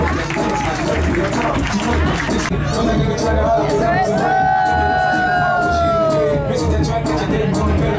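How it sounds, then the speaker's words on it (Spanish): Passengers on a night boat tour aboard a yacht clap and cheer with dense crowd applause, while loud music with a steady beat and a singing voice play over it. "El aplauso, el aplauso, qué rico, el aplauso, el aplauso."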